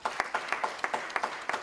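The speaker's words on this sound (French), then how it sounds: "je vous prie d'applaudir le docteur Denis Mukwege à hauteur de la prix Nobel" Audience clapping for Dr Denis Mukwege at a UDPS federation gathering in Norway, a sparse, moderately close patter of individual claps in a loose rhythm, only a handful of hands.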